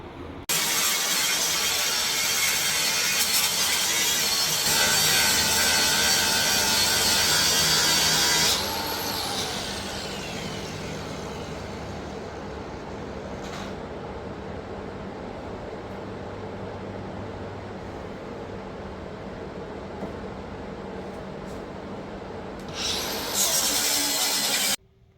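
A grinder works over filled patch panels on a car body, a loud, steady abrasive whine that drops in pitch partway through, runs on continuously, then briefly rises again near the end, with no voices.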